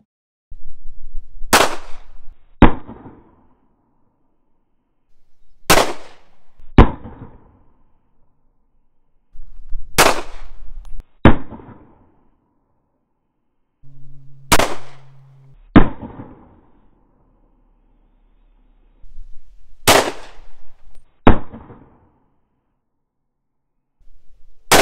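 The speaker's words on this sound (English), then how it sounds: "Now let's see if it can actually stop a bullet." Six loud, sharp gunshots at a closed outdoor range fired into Level IIIA soft body armor, evenly spaced a few seconds apart, each a hard crack followed by a quick echoing second report, with silence in between.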